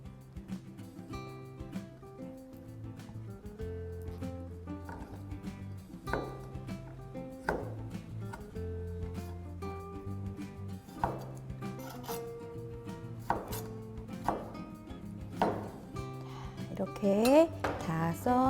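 A knife chops tomatoes on a board in a shared community kitchen, with a steady run of light taps and clinks and a quieter scraping near the end, close and moderately loud.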